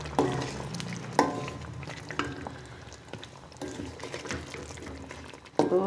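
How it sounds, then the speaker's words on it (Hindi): Water splashes into a cooking pot of aloo gosht while the meat and potatoes are stirred, with scraping and gentle simmering, close and moderately loud. "थोड़ा सा पानी लगाएंगे ताकि अच्छी तरह नरम हो जाए।"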